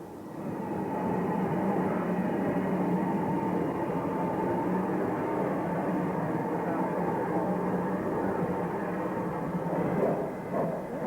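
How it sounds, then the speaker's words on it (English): Steady rumbling train noise with a continuous low drone and clanking, fairly loud and unchanging throughout, as a BR Standard Class 2 steam locomotive shunts its train slowly nearby. "BR Standard Class 2 number 78045, shunting its train ready for the return trip"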